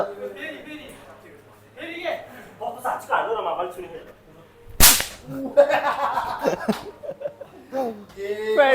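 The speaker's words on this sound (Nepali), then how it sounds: "रुमालबाट प्याट कसरी पड्काउने भनेर ट्युटोरियल होइन" A towel is snapped once with a sharp, loud crack partway through, set amid lively talking and laughter from a group of people nearby.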